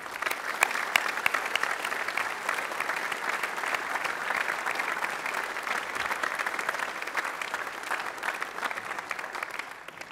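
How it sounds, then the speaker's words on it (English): Dense, steady applause from an audience at a secondary school awards celebration fills the room, many hands clapping continuously and evenly for about ten seconds at moderate loudness. "Can we please give them a round of applause?"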